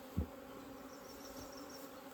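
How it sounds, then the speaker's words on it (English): Honeybees that have just been dumped into a hive give a soft, continuous buzzing drone, close and fairly quiet. A brief knock sounds near the start. "That's because I dumped them bees in."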